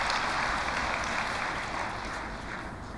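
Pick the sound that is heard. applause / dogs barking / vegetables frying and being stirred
applause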